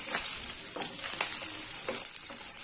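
Onion and garlic sauté in a pan for a chutney, giving a steady soft sizzle with a few faint scraping stirs spread across the clip, close by and without talk.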